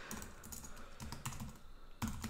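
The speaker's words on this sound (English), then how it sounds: "I'm just going to type in some random text" Keys clatter on a computer keyboard in short quiet bursts of close, uneven tapping with a few firmer strokes, no talking.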